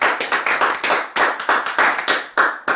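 A church congregation claps in rhythmic bursts to acclaim the Lord, many hands striking together in repeated sharp groups, close and lively, with no speech over it.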